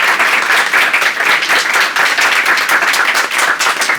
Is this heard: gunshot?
no